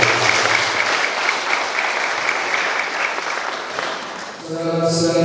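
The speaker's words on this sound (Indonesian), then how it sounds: "Maka mari kita berikan tepuk tangan yang meriah" Loud, dense applause fills a Catholic church as a newly married couple is celebrated at their wedding ceremony, sustained for several seconds before dipping and giving way to a tonal swell at the end.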